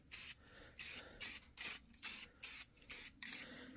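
Primer sprayed in light coats onto a stock Buick air cleaner that was scuffed with red Scotch-Brite: eight short, even hissing bursts with brief pauses between, close and clear, with no talking.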